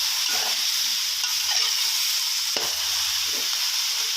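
Featherback fish balls stir-frying in green curry paste give off a steady hiss and sizzle, with a few soft scrapes and clacks of a utensil moving through the pan.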